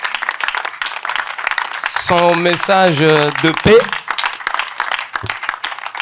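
Applause from a crowd at an International Day of Peace ceremony honoring a reverend, a continuous patter of clapping running under a loud amplified voice speaking in French through much of the clip.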